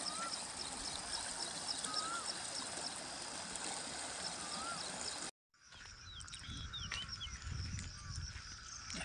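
A village river running high after heavy overnight rain makes a steady broadband rush of flowing water with birds chirping over it; the sound cuts off briefly midway, then resumes slightly quieter.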